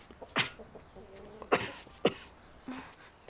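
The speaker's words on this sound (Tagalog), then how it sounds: "Pero ilang araw ka nang inuubo." Several sharp, harsh coughs from a person with a days-long cough, spaced irregularly across a few seconds in a quiet indoor setting, close and moderately loud.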